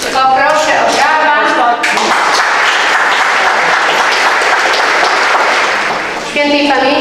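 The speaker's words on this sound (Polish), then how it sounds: "Poproszę o brawa." Loud, dense applause fills a hall at a school-year inauguration ceremony, breaking in after a brief voice and sustained for several seconds before fading as speech returns.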